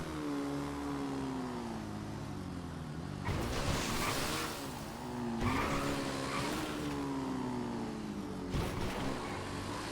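Nagasaki BF400 motorcycle in GTA Online, its engine droning steadily with revs rising and falling, punctuated by sharp tire squeals and bursts of acceleration, close and loud with no talking.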